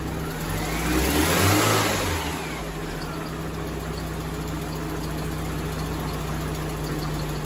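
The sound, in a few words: Eagle Talon car engine running after spark plug replacement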